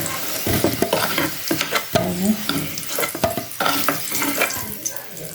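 Potatoes frying in a pan in a home kitchen, with a steady sizzle under repeated scraping stirs of a utensil against the pan, close and moderately loud.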